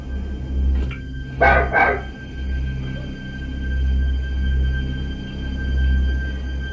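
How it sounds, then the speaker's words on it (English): A dog barks two or three times in a quick burst near the start of a tape recording from the Enfield poltergeist case, then only a low steady hum with faint background noise remains. "The barking here is quite extraordinary"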